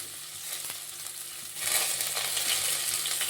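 Onions sizzle and fry steadily in a pan while pasta is being made, the hiss growing louder and brighter partway through, with no voices over it.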